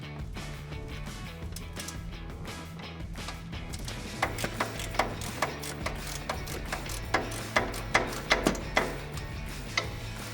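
A socket wrench ratchets out a strut bolt on a Toyota Tacoma during a suspension lift install, its quick metallic clicks growing louder and more regular in the second half over a low steady background hum.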